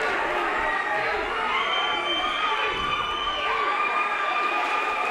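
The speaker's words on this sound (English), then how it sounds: "The crowd is getting into this one, folks." A crowd roars and cheers at an MMA fight, a loud sustained wall of shouting and whistling voices that rises and swells throughout.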